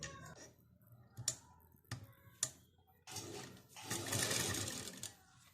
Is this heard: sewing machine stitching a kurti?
yes